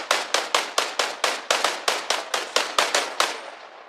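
Rapid rhythmic gunfire from Arma Reforger, about a dozen loud sharp shots in a steady burst, each ringing out with a short decay, with no voices over it.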